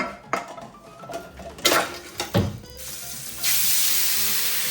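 A metal frying pan holding a sausage clatters and scrapes against dishes and is dropped into a kitchen sink in a few sharp knocks, then a steady hiss of running water or sizzling takes over, fairly close with no speech.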